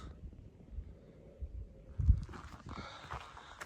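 Horse hooves clop unevenly on the ground at a slow walking pace on the Appalachian Trail, fairly close, with a louder thump partway through and outdoor noise rising afterward.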